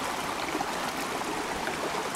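Mountain stream in Val Ganna, near Varese, running steadily with a broad, continuous rush of water and light gurgling, close and even throughout with no voices.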